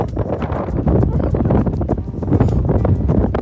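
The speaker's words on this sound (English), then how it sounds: "that boat ride was freezing cold and very windy" Strong wind buffets the microphone throughout a cold boat ride on San Francisco Bay around Alcatraz Island, a steady, loud roar with gusty bursts and low rumble and no voices.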